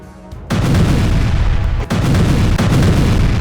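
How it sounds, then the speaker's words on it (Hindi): Loud, booming explosions from Israeli strikes on Hamas tunnel sites in Gaza hit in quick succession, a dense rumbling roar broken by a few sharp jolts, close and overwhelming. "5 सेकंड तक धमाके"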